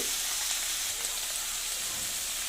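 Brinjal with neem leaves frying in mustard oil, a steady, close sizzle with a dense crackle that holds evenly throughout, with no voices.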